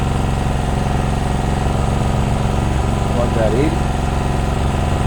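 An Ozito 2000W petrol generator runs steadily and loud close by, its constant engine drone unbroken throughout while someone speaks briefly over it.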